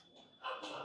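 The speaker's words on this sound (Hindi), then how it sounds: "कुत्ते भौंक रहे" Dogs barking outside, faint and distant, a short burst of a couple of high yelping barks.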